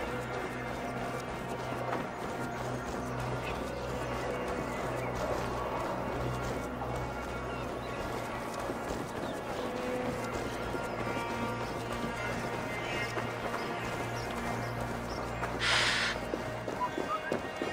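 Horse in Assassin's Creed Valhalla galloping amid a busy game soundscape, hoofbeats steady and moderately loud beneath music and effects, with a brief bright burst near the end.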